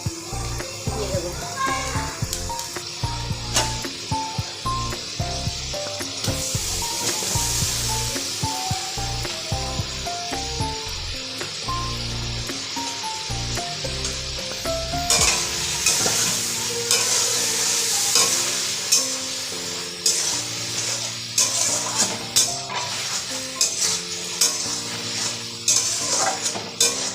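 Beans and potatoes stir-fry in a home kitchen pan, a steady sizzle running throughout with repeated scraping stir strokes, close and fairly loud, with faint background voices and some music-like tones.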